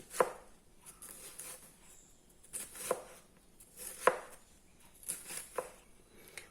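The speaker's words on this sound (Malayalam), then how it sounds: "കാബേജ് അരിഞ്ഞു കഴിഞ്ഞു." A knife chops cabbage on a cutting board, a handful of separate strokes spaced a second or so apart, close and fairly quiet.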